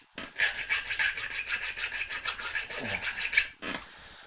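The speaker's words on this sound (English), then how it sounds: "I'm making a bracket, right? With my pathetically small little file." Small hand file rasping on a metal bracket at a workbench, a continuous rapid back-and-forth scraping close up, steady strokes with a brief pause near the end.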